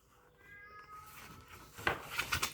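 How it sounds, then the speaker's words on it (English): A cat meows faintly several times in quick succession near the end, after a quiet, low background. "And there goes my cat."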